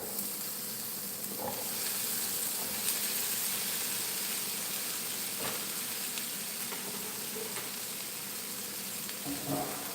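Vegetables drop into a pan with a spoonful of hot oil and sizzle in a steady, moderate hiss, with a few sharper crackles rising above it.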